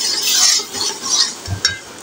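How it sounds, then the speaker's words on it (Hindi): Spoon stirring masala in a metal pot for chicken haleem, with scraping strokes, light clinks and soft sizzling of frying spices, close and brief, no talk. "अब इनकी भुनाई अच्छे तरीके से कर लेती हूँ मसाले की सारे की।"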